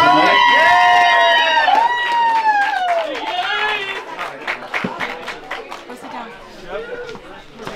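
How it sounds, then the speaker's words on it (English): Wedding reception guests in Colorado cheer with loud whoops and shouts, followed by scattered clapping and chatter that settles into a lively crowd murmur. "ladies and gentlemen, one more very big round of applause for Corey and Trevor tonight."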